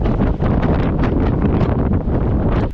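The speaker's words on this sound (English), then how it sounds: "Well, it's well windy out there." Strong wind buffets the microphone on the deck of the P&O Iona cruise ship during sail-away in the Norwegian fjords, a loud continuous roaring rumble with gusting swells and no talk.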